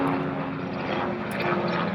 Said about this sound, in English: Got choppers happening and everything around me.